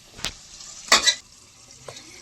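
Onions sautéing in a pan for chicken curry, turned with a spoon so that a few short stirring scrapes and sizzling bursts come up close over a faint frying hiss.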